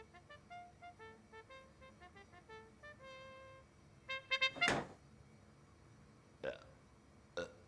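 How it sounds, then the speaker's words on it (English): A window blind knocking against a window makes a series of light taps and clicks that builds to a loud, burp-like burst, then two more sharp knocks follow. "The blind hitting the window made the sound of burping."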